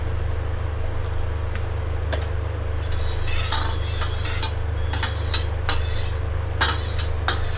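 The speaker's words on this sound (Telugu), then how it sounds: "ఇందులో కొంచెం కోకోనట్ ఆయిల్ కలుపుతున్నాను" A spoon stirs coconut oil into a boiled flaxseed and rice gel inside a metal vessel, making scattered clinks and scrapes that grow busier over a steady low hum, close by and without speech.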